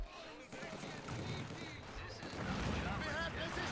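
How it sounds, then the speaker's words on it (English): Battlefield fire in Company of Heroes 2 with a 120mm mortar and gunfire: dense, continuous rumbling bursts and crackling shots blending together at a steady, fairly distant level throughout. "the 120mm mortar is actually turning around and shooting at them"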